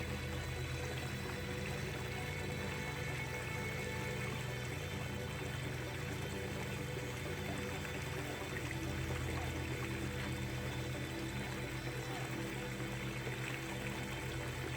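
A monsoon stream flowing near Pune, a steady faint rushing and babbling of water, continuous and even throughout with no talk.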